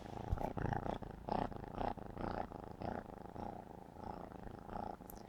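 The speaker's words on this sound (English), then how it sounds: "Listen to her purr." A house cat purring close up, a soft rhythmic rumbling that swells and fades with each breath over several seconds, alone and fairly quiet.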